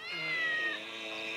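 A meow in the game GTA 5, high-pitched and drawn out, heard up close as a single sustained call with a wavering tone and no talk over it.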